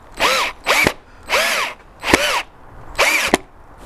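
A power drill drives screws into the parts of a homemade modern floor lamp, giving five short, loud whirring bursts with pitch sweeps, each cut off sharply, with brief pauses between them.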